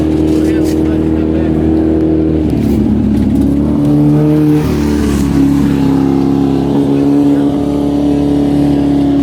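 An off-road race vehicle roars past at the Mint 400 desert race, with a loud, sustained engine drone that shifts in pitch as it goes by, under other engine noise and some talk.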